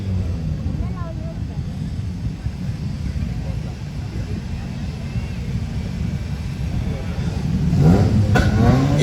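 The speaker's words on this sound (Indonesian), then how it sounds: "Silakan dipancing untuk RPM-nya lebih tinggi." A drag race engine revs hard toward high RPM at an Aceh drag racing championship, a loud continuous roar that rises near the end, with crowd noise and voices mixed in.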